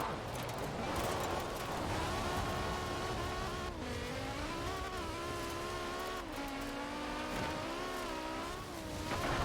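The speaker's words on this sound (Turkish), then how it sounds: "Adamın aracın sesi de çok iyi ya." BMW M3 E30 engine in Forza Horizon 4 during a rally race, loud and continuous, revving up and down through gear changes with rising and falling pitch.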